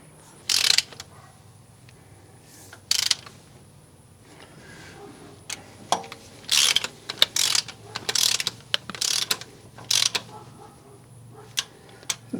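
Wrench snugging bolts on an engine under repair, with bursts of rapid ratcheting clicks separated by pauses, close and clear over a quiet background hum.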